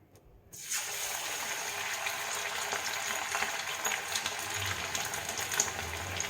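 Prawn pakora dropped into hot oil in a wok sets off a steady, loud sizzling hiss that holds evenly to the end after a brief quiet start.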